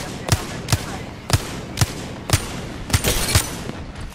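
Single gunshots fire in a ranked shooter video game, about eight sharp cracks spaced roughly half a second apart, loud and close, with a brief cluster near the end over a steady background hum.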